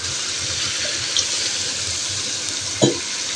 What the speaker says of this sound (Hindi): अब इसमें थोड़ा सा पानी डालती हूँ